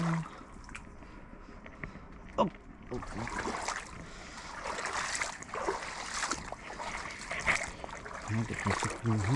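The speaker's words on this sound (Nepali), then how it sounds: "पानी मुहान छ" Water trickling and gurgling from a spring where watercress grows, a fairly quiet, uneven splashing flow with a few sharper splashes, and a person talking over parts of it.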